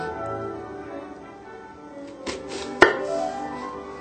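French knife slicing an onion on a cutting board, quiet background with a couple of sharp taps of the blade meeting the board near the end.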